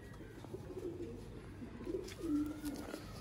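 Golden pigeons coo in low, soft, repeated phrases amid a faint outdoor background, with several short coos spread across the moment.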